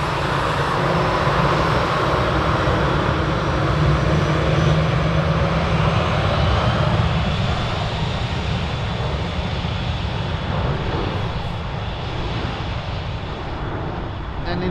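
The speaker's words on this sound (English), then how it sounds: "in the back you hear the Delta A330 leaving Frankfurt again" A Delta Airbus A330 airliner departs Frankfurt Airport on a freezing day, its jet engines producing a loud, steady broadband roar that fills the whole stretch and fades slightly toward the end, with voices talking faintly.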